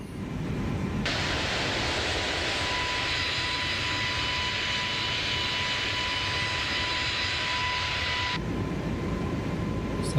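Airbus A321 jet engines spool up to a steady, loud broadband roar during takeoff in Microsoft Flight Simulator 2024. A thin whine sits over the roar, and the engine sound fills nearly the whole stretch unbroken.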